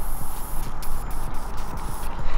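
An aerosol can sprays a steady, close hiss for a couple of seconds, imitating the sound of stuck-closed brake valves squeezing air out.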